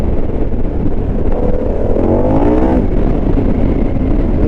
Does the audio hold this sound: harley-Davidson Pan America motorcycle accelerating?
yes